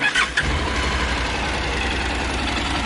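A Honda NC700S motorcycle engine starts with a brief burst, then settles into a steady, low, rumbling idle up close.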